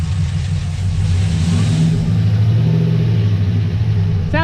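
A freshly installed LSA supercharged 6.0L V8 runs loud and steady close by, a deep rumbling idle with a slight rise in revs, heard alone without talk.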